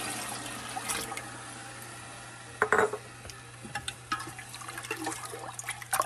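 Water is poured into a pot of sugar-sweetened pickling brine for beets in a home kitchen. The trickle is soft and faint, with a few light clinks of utensils.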